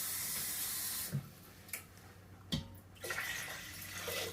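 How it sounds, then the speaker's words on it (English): Water pours into an Instant Pot while making chicken ginger congee, a splashing hiss that cuts off, followed by a few clunks and a quieter renewed trickle. "go ahead and add the rest of your water"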